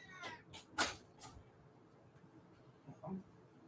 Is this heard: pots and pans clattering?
no